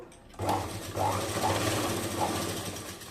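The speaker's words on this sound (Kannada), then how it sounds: "ಕಾಜಿ ಪಟ್ಟಿ ಬಂದು ಈ ರೀತಿ ಕೆಳಗಡೆ ಭಾಗ ನಾವು ಫಸ್ಟು ಸ್ಟಿಚ್ ಮಾಡಬೇಕಾಗುತ್ತೆ" A sewing machine stitches a buttonhole placket strip onto a garment: after a brief quiet start, a steady, close motor whir with a fast rhythmic needle chatter runs continuously to the end.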